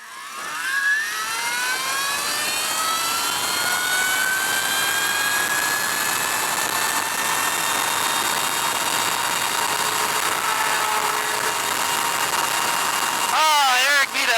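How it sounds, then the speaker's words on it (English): An electric Alta Redshift SM39 motorcycle launches at a weeknight drag strip, spinning its tire. A loud, high-pitched motor whine rises and holds for most of the run, then cuts off abruptly. "I hadn't done it all night, man, but I spun the tires."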